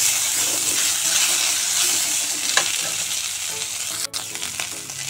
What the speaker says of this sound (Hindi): आलू को मैं सबसे पहले डालकर इसको थोड़ा सा रोस्ट कर लूँगा